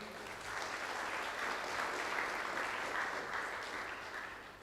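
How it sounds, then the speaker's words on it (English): Sustained applause from an online conference workshop audience thanking a speaker, a steady broadband clatter of clapping that holds evenly for several seconds before tapering slightly at the end. "A big round of applause"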